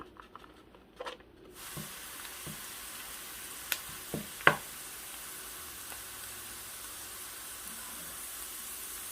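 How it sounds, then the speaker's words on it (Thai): Minced garlic drops into hot oil in a pan and starts a steady, even sizzle that continues throughout, with a few small knocks and scrapes from stirring. "นี่ก็คือกระเทียมสับของปูนะคะปูจะใส่ลงไปนะคะ"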